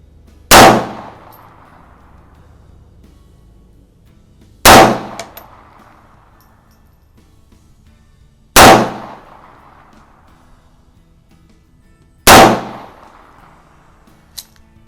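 An Erma LA22 .22lr Luger replica firing at the range, each round striking a steel target: four sharp, evenly spaced cracks with a ringing clang, about four seconds apart.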